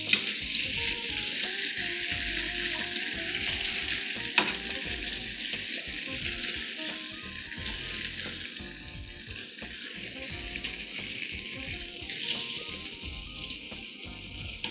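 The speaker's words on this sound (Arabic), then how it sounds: "انا عايزه بس ايه اشوحه تشويحه بسيطه كده ياخد اللون ده" Unseasoned shrimp sauté in a hot pan with a continuous, close sizzle and crackle, occasionally stirred, with no talking.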